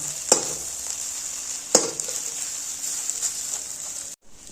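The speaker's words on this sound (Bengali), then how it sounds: "পুরো দু পিঠই মানে ভালো মতো ভাজা করে নেব একদম" Egg toast fries with a steady sizzle in a little oil, with two sharp clinks of a utensil against the pan, then cuts off near the end.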